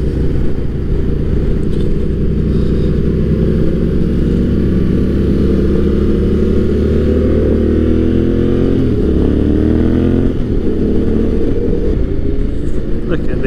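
Motorcycle engines roar steadily and loudly, several bikes droning together on the road without a break, with occasional shifts in pitch as they rev.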